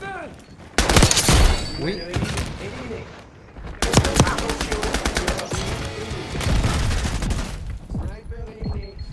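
MP40 submachine gun fire in a multiplayer video game: several loud, close rapid bursts separated by short gaps, with brief game voices and a player speaking between the volleys.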